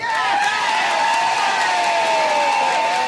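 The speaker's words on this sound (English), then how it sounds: "you gotta all start clapping and whooping it up" A live audience at a showbiz-style performance erupts in steady cheering and whooping, loud and sustained for about three seconds with mixed shouts over a dense crowd roar.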